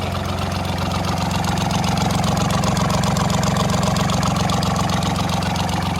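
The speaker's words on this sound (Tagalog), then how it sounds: "Ganda ng andar ng makina." A Kubota Sunshine L1255 tractor engine idles steadily up close, a loud, even diesel chug with a fast regular pulse and no talk over it.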